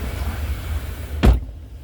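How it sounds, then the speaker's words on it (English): A car trunk shut by hand outside a car wash, a single sharp thud near the end, heard over a low rumbling background. "Make sure you close the trunk down."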